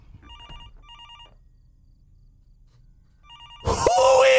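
A telephone rings inside the Fears to Fathom: Norwood Hitchhike horror game, with three short electronic trilling bursts separated by pauses. A loud, distorted tone then cuts in at the end.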